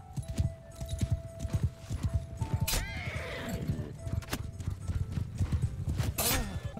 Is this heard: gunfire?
no